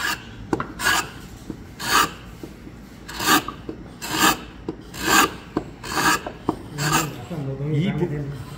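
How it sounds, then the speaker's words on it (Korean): The sole of a Japanese hand plane scrapes back and forth on sandpaper in steady, evenly spaced rasping strokes, close and loud. "이 부분만 살짝 이렇게 사포로 문대면 되니까 빨리 잡히고"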